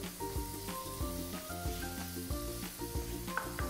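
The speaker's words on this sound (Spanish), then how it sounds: "Por último, vamos a echar las sardinas." Canned sardines, drained of some tomato sauce, sizzling in a hot pan for a rice dish, a close frying hiss with bursts of crackle and stirring scrapes, steady and moderately loud.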